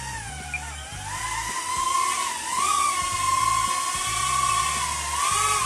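Blade Torrent 110 drone motors spinning up after the power switch is flipped: a steady, loud, close electric whine whose pitch wavers up and down, over a low, uneven mechanical rattle, with no talking.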